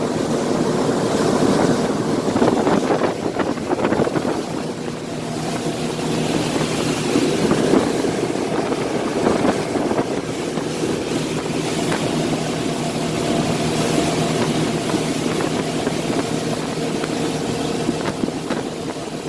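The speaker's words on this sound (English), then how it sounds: "Nice smooth boat. Cuts the waves nice." A 2006 Polar boat powered by Yamaha 225 four-stroke outboards runs steadily over waves, with a constant engine drone mixed with water rush and wind noise, no voices.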